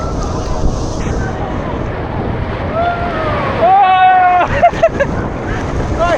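Sea waves wash steadily onto the shore at Baga Beach in Goa, a broad continuous roar with wind buffeting the microphone and a brief voice partway through.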